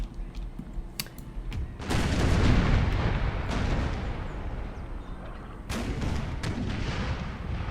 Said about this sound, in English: more than likely the largest artillery force ever brought to a single battlefield by the Austrian armed forces